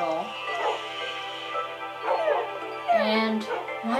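Minecraft dogs yip and whimper in short, high, repeated bursts, fairly close, over a steady game background hum, with a person talking throughout.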